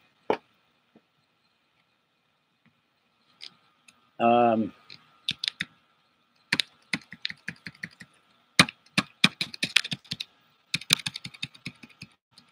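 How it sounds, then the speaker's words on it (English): Keystrokes on a computer keyboard with a failing zero key: scattered single clicks, then dense clattering bursts of typing in the second half, close and fairly quiet, with a brief tonal sound partway through. "now the 0 isn't working on my keyboard"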